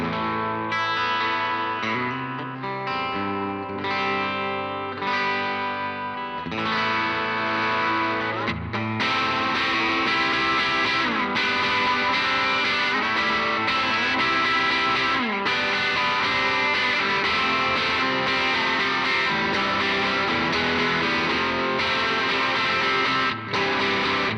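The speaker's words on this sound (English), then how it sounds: "It's just a gorgeous guitar sound." An electric guitar plays through a Line 6 DT25 112 tube combo amp, warm and overdriven with chorus-like shimmer and high reverb, first picked notes, then sustained strummed chords ringing loudly without pause.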